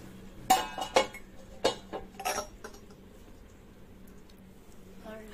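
A lid is set down on a pot of mutton curry, producing a few clinks and metallic clatters in the first seconds, then quiet kitchen hum, with no talking.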